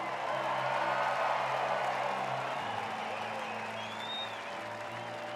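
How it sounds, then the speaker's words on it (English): A stadium crowd applauds and cheers for the Utah Red Rocks gymnastics team at a Baylor vs. Utah football game, a broad, sustained roar of clapping with some whoops, steady and slightly fading toward the end. "Ladies and gentlemen, please give a round of applause to your Utah Red Rocks."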